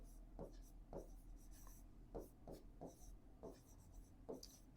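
Chalk or marker strokes on a board during a class 10 maths lesson on linear equations, a series of short scratchy bursts in irregular rhythm, fairly quiet and close, with no talking over them.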